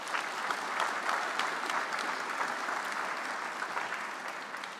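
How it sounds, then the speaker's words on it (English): Steady applause from a lunch audience welcoming the mayor, a dense continuous patter of many hands at moderate distance with no talk over it. "Round of applause for the Mayor."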